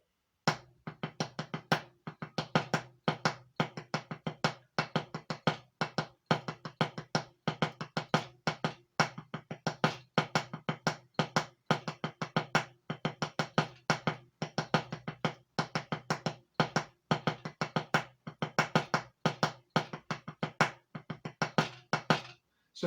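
A drum kit played in a continuous improvised sticking pattern, a steady stream of sharp hits and strokes repeating in an even 8th and 16th rhythm for over twenty seconds, close and unaccompanied by talk.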